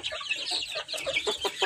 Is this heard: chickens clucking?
yes